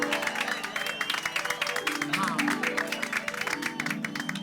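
Applause breaks out in a housing-society gathering to honour a teacher, fast dense clapping from a group that runs throughout, with voices talking over it.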